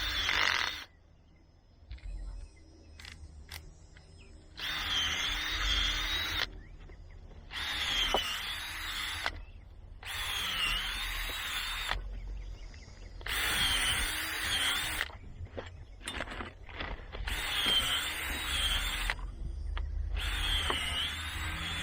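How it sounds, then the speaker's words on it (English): A power drill fitted with a 4-inch auger bores into the ground to separate banana plant pups, whirring in loud repeated bursts with short pauses between runs. "Okay, this is a 4-inch auger."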